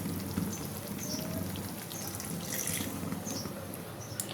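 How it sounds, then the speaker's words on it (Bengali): Water poured into a pan of doi katla, a Bengali yogurt-based rohu fish curry, making a steady splashing, hissing wash that runs unbroken through the clip at close range, with no talk over it. "এই যে দেখো এটা জলটা এবার এখানে একটু দিয়ে দিই"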